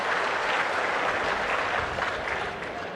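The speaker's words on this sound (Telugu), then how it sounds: "గట్టిగా చప్పట్లు కొట్టి అభినందించండి." Sustained applause from an audience at an officials' meeting in Kalidindi, Kaikaluru constituency, steady and dense throughout, easing slightly toward the end.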